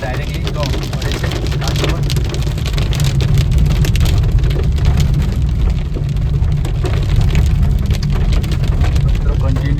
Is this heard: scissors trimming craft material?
no